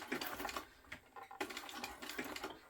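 A sewing machine stitches a Quartz clutch bag with a cylinder arm, running in short bursts of rapid needle chatter with brief pauses between runs, close and fairly loud with no talking.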